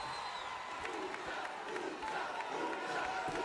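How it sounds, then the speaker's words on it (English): Crowd chanting inside WWE 2K19 during an MLW Fusion wrestling match, a steady, dense roar of many voices with a loose rhythmic chant swelling on top, continuous and fairly close throughout. "The crowd picking up the chant."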